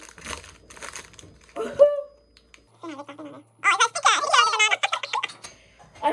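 Plastic toy packaging crinkles and rustles during a kids' toy unboxing, in short bursts mixed with voices talking nearby.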